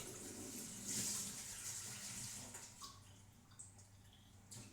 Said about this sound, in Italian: sto prendendo dell'acqua